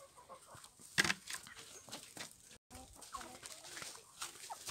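Free-range hens in a coop holding about a hundred chickens, scattered close clucks and squawks with occasional wing flapping over faint background activity.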